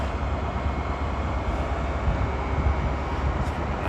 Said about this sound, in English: This is the Amtrak Coast Starlight 14. Its final stop is Seattle, Washington. It just pulled in here to Vancouver Center.